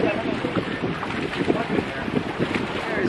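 A boat motor drones steadily over water with wind buffeting the microphone, a continuous rushing noise with no distinct pauses, on a boat trip between Alaminos and Sual.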